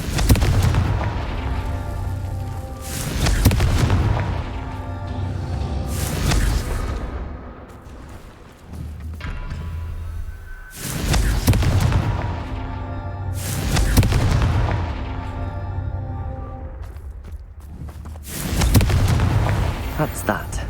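Fiery spell blasts from the Confringo curse in the Hogwarts Legacy video game, several loud booming bursts spaced a few seconds apart amid ongoing game sounds, with a voice speaking briefly.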